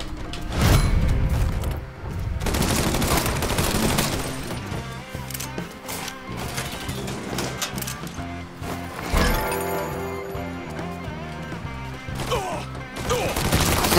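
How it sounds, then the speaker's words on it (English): Gunfire in the open-world crime game Mafia 3, with dense, overlapping shots and crashing impacts layered over game music throughout, loud and continuous with bursts near the start and around the middle. "Stop shooting at me."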